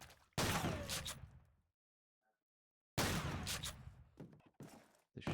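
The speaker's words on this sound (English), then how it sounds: "The shotgun clearing things up." Two booming shotgun blasts from a Call of Duty 2 esports match, each followed by a rumbling decay. A short silent gap separates them, and a few sharper cracks trail after the second.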